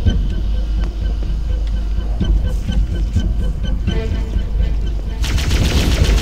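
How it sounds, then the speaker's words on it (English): Sustained automatic gunfire from the Halo CE video game, loud and continuous with rapid bursts, set during the Guilty Spark level on Legendary, with a sharper, denser volley near the end. "Now the floods are going to come with guns"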